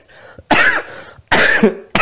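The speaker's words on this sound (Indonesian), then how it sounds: "itu batuknya batuk aneh" Two loud, close coughs burst out about a second apart, each harsh and raspy with a short throaty tail, preceded by a softer breathy sound.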